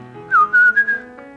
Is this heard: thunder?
no